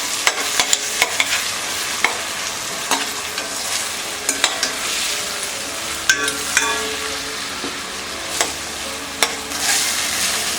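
Onions and tomatoes sizzle steadily in a pan while a spoon stirs and scrapes, with sharp knocks of the utensil against the metal at irregular intervals, close and fairly loud.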